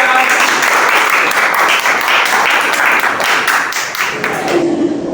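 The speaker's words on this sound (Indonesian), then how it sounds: "tepuk tangan untuk kelompok 2" Loud, close applause rings out for a group of students in a classroom lesson, a dense continuous burst of many hands that holds steady, then cuts off near the end.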